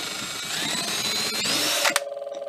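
A disassembled refrigerator compressor motor, unfastened from its shaft, whirs up after being plugged in and kickstarted, a rising whine that cuts off abruptly into a faint pulsing hum.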